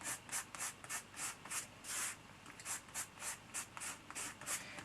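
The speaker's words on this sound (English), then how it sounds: "We just use our fingers to rub it out." Fingers rub back and forth over paper, blending ink for a chrysanthemum drawing, in a steady train of soft, close scuffing strokes, about a dozen evenly spaced, quiet and alone.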